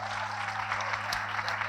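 Audience applause for the speakers at a tourism conference, steady dense clapping throughout a short stretch, moderately loud with a constant low hum beneath.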